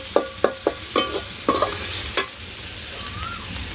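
Spice mix with salt being stirred and scraped in a frying pan in a village kitchen, a run of sharp spatula strikes over a steady sizzle, then a quieter continuous frying hiss with a faint tonal squeak near the end.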